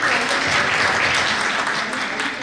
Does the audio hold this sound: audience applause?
yes